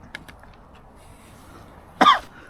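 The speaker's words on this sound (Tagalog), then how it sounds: "inuubo na naman ako" A single sharp cough near the end, loud and close, after a couple of faint clicks over quiet room tone.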